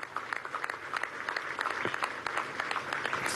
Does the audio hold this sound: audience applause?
yes